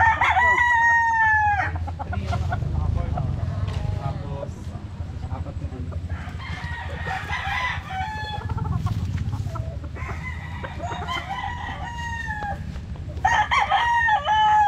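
Several gamecock stags crowing repeatedly and loudly up close, overlapping calls from different birds over a steady low rumble of farm noise.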